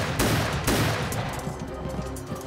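Rapid cartoon gunfire as defenders shoot at boarding attackers from black-sailed ships, a loud continuous volley with dense crackling bursts and no clear gaps.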